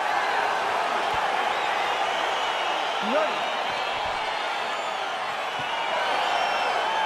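Arena crowd in EA Sports UFC 4 cheering as a fight gets underway, a steady loud roar of many voices filling the space, with a brief whoop and a voice speaking over it.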